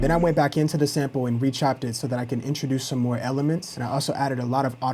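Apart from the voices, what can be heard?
No distinct noise like a dog, phone or traffic.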